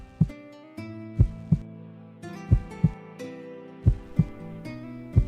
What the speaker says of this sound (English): Oh, that's his heartbeat I'm hearing.